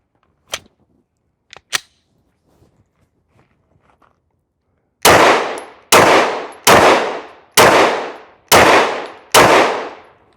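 Six sharp gunshots fired at targets through a reflex sight, evenly spaced about a second apart and loud, each with a short ringing tail, after a few faint clicks and handling sounds.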